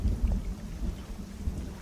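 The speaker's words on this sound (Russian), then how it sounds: "Дождь пошел, молния сверкает." Rain and rolling thunder in the fishing video game DREDGE, a low rumbling storm with a steady wash of rain, loud and close, no voices.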